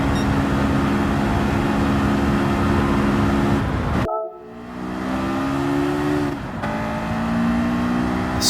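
A Honda S2000 racing in Gran Turismo 7 on Grand Valley Highway, its high-revving engine roaring steadily, cutting out abruptly for a shift, then climbing again before another brief dip and renewed wail.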